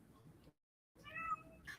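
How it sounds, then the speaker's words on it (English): Domestic cat meowing quietly indoors, a short faint meow, a pause of silence, then a slightly louder drawn-out meow close by. "There goes our cat."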